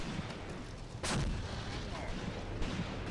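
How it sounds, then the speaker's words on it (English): Artillery in the video game Graviteam Tactics: Mius-Front fires in a heavy boom that lands sharply about a second in, with a fainter second blast later, over a constant rumbling wash of battlefield noise. "That is the sound of artillery"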